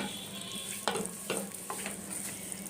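Tomato pickle stirred and frying in a pan, a steady sizzle with a few louder scraping strokes of the spoon, close and continuous without any voices.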